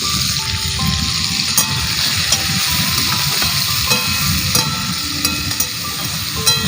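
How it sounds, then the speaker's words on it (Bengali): Potatoes and moringa drumsticks frying lightly in oil with salt and turmeric, giving a loud, steady close-up sizzle and hiss with small scattered crackles throughout, no voices. "দেখো মা আলু ও সজনে ডাঁটাটা হালকা করে ভেজে নিয়েছে।"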